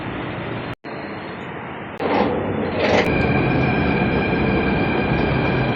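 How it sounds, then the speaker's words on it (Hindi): A metro train rides with loud, steady rumbling from inside a carriage, then a brief dropout, a sharp surge as it picks up, and a high sustained wheel whine over the roar. "मेट्रो का सफ़र पूरा हो गया है"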